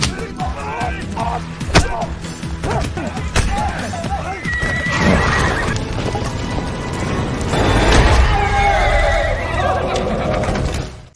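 A horse neighs and whinnies amid clattering hooves and heavy thumps in a dense, loud action scene from a war drama, with constant layered commotion throughout.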